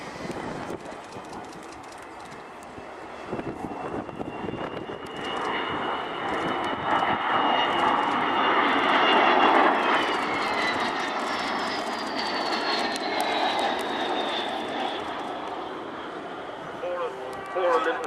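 A loud, sustained roar of an Avro Vulcan XH558 bomber's jet engines passing at an air show, with a rising whine that slowly settles as power comes off, heard at a distance outdoors.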